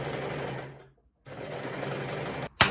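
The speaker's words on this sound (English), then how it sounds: "So I just made a little sewing test to see if I'm gonna use a overlocker." A sewing machine stitches a tube dress seam in a steady, loud whirring run that stops briefly, resumes, then ends with a sharp knock.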